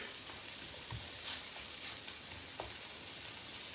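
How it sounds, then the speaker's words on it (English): Pork loin and courgettes sizzle steadily in a frying pan, a dense continuous hiss with a few soft clicks and pops, close and alone. "that's now simmering away"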